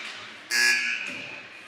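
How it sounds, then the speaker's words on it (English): A loud arena buzzer sounds for a line change at a youth mite ice hockey game, one harsh electronic blast of about half a second that trails off into rink noise. "that's the buzzer for line change"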